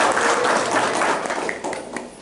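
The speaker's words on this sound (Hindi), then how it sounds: "एक बार सभी जोरदार तालियों से" An audience at a Brahma Kumaris Diwali gathering claps in a lively burst of applause that gradually thins and fades toward the end.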